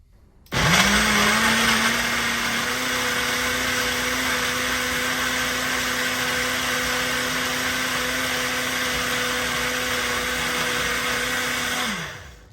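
A Ninja Fit portable blender motor blending frozen fruit whirs up and runs at a steady, loud pitch for about eleven seconds, then winds down to stop.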